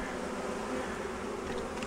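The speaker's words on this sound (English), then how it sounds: "I don't know if you can see the bees in there." Honey bees from a newly installed package buzz inside their new hive, a dense, steady drone that holds close and continuous throughout without any speech.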